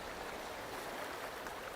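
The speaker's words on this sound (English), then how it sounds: "You hear the rolling rush of the ocean waves." Ocean waves make a soft, steady rolling rush of broadband noise, faint and continuous with no distinct breaks, heard alone without voices.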